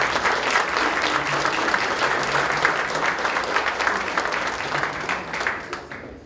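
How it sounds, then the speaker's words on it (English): A council meeting audience applauds Gary Kendrick, honored for leading alcohol policy prevention in San Diego County, with steady, dense clapping filling the room throughout before thinning slightly at the end. "A round of applause for Gary Kendrick."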